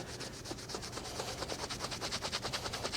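Engraved metal being rubbed and polished with a dirty old rag, a quiet, fast rhythmic scrubbing that speeds up into regular back-and-forth strokes, close and alone without speech.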